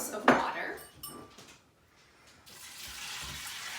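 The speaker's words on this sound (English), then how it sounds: "And then we're going to add 8 cups of water." Water splashes from a tap into an Instant Pot holding dried beans, after a few clinks of metal and dishes. The pour settles into a steady, moderately loud rush of water.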